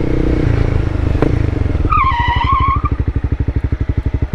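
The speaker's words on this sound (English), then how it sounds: "I hope you can hear the bike in the audio. But there was obviously a little bit of screeching there." A motorcycle braking hard from about 30 mph: engine drone, then a rising tire screech lasting about a second, followed by a rapid, loud putter of the engine slowing to a near idle.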